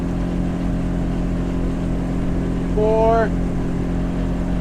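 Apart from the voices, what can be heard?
Yamaha outboard boat engines revving at full throttle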